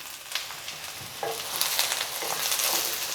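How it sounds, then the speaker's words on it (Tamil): Carrots, beans and peas sizzle and crackle in a hot pan as they are stirred, a close, steady frying hiss with scraping stir strokes and no voices. "இதை எல்லாத்தையும் ஒன்றா சேர்த்து நம்ம கிளறி விட்டுருவோம்."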